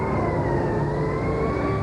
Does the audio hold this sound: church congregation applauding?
no